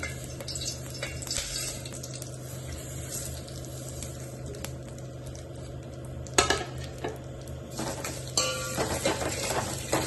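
Vermicelli roasts in a couple of spoons of ghee on low heat, a soft constant sizzle under busy stirring and scraping, with a few sharper clatters along the way.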